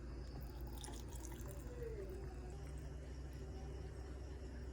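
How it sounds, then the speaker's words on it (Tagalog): Boiled sugar syrup is strained into a container, giving a faint, soft liquid trickle and pour that flows steadily for a few seconds with no speech. "Isala na natin siya sa ating talagyan"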